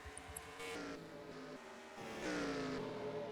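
Race cars in the NR2003 racing game lapping with steady engine drone and rising pitch sweeps as cars accelerate, fairly quiet and continuous with no talking.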